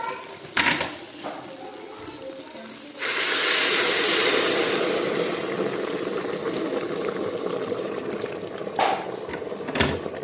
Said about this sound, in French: Et maintenant, je vais rajouter l'eau.